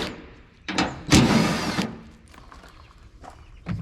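A power tool on a Silverado dually truck door whirs in short bursts, with one longer run and several brief blips, as 13 mm bolts are backed out of the door handle, heard close up with no talking.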